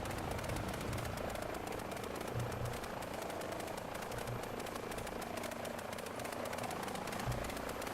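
An AI-controlled helicopter circles over Melbourne in Microsoft Flight Simulator, its rotor throbbing in a fast, steady chop under a constant engine hum, distant and unchanging.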